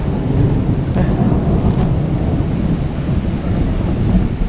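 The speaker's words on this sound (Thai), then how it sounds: "ฝนไม่มีทีท่าว่าจะหยุดตกแล้วครับ" Heavy rain pours down on a forest in Wiang Haeng during a storm, a loud, unbroken roar with a deep rumbling low end, and no voices.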